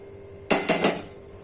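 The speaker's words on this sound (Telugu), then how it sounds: "స్టవ్ ఆన్ చేసుకొని పెనం పెట్టేసుకొని" A metal dosa griddle set down on a stove, making a sharp clanking impact followed by two quick rattling knocks, then quiet.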